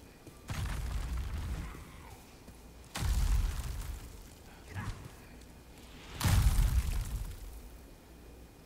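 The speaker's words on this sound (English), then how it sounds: "Looks like we have two miners throwing boulders." Boulders thrown by miners crash and rumble in Demon's Souls Remake, three heavy booming impacts spaced a few seconds apart, each with a rolling tail.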